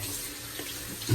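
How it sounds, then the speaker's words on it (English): Water running steadily from a bathroom tap to rinse out a shaving brush, a close, continuous hiss and splash that swells briefly at the end. "So let me rinse this off."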